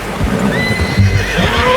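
A horse in the video game Red Dead Redemption 2 whinnies loudly with a rising, shaky call, over low rumbling and faint clopping.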